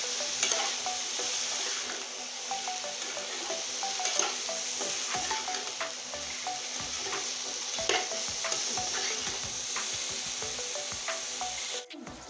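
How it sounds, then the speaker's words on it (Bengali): Bottle gourd sautéed with spices in a pan, a steady soft sizzle under repeated scraping strokes of a spoon stirring the vegetable, with no talking. "এখন আমি সুন্দর করে লাউটা আগে কষিয়ে নিব সুন্দর করে"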